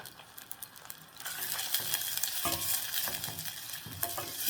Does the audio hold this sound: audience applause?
no